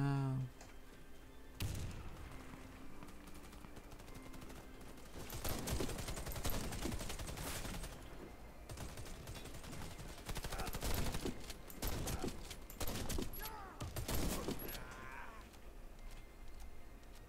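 Gunfire bursts through a Warface match, including shotgun fire, in dense, loud volleys across most of the stretch, with a player talking excitedly over the shooting.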